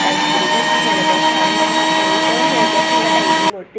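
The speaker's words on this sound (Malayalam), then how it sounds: "അപ്പോൾ പഞ്ചസാര ഇട്ടതിൻ്റെ ശേഷം നന്നായി ഒന്ന് മിക്സ് ചെയ്തെടുക്കുക" A blender mixes juice with sugar in its jar, a loud, steady motorized whir with a high whine that runs without pause, then cuts off abruptly near the end.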